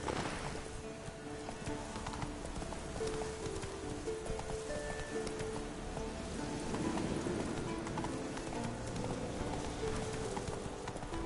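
Horse hooves galloping in The Witcher 3 video game, a fast continuous clip-clop under game music and ambience, moderately loud and steady throughout.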